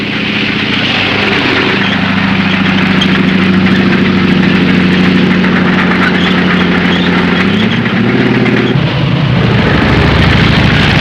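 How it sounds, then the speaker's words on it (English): American light tanks and other armored vehicles advancing toward forward positions at the front in North Africa, a loud steady engine roar and rumble held throughout with a shifting low drone, no talk. "Our armored vehicles move toward the forward positions."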